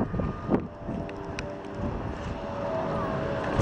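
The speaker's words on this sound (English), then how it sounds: "I don't know if you can hear us at all from the wind" Steady wind rushing over a microphone on a hillside during a quail hunt, a continuous low buffeting roar with faint voices underneath.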